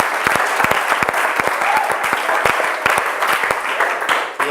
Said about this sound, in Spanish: Un aplauso para el grupo de tercer año.